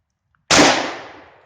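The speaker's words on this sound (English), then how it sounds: "Here's the AK-74." A single AK-74 rifle shot fired at a Polish Wz2000 Kevlar helmet: one loud, sharp crack that cuts in suddenly, then a reverberant tail fading over about a second, with no talk.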